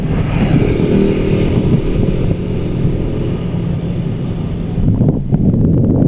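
Rusi Adventure X 150i scooter ridden near top speed on a bypass road, a steady droning engine under heavy, constant wind rush against the microphone, loud and continuous with a brief dip near the end.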